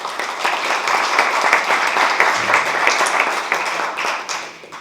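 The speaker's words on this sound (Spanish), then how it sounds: "Un fuerte aplauso para él, por favor" Sustained applause from an audience at a university sociology event, dense and steady for several seconds, fading slightly at the end.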